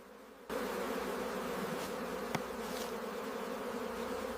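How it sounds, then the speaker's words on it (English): Honey bees buzz steadily around an open hive in a dense, continuous drone, close and constant, with a faint tap partway through. "More smoke is applied. The bees retreat deeper into the hive."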